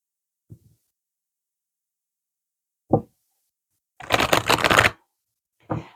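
A short burst of oracle card shuffling, a quick riffling flutter lasting under a second, between a few isolated soft taps in otherwise quiet surroundings.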